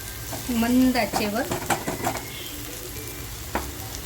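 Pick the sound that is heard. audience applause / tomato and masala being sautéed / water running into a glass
tomato and masala being sautéed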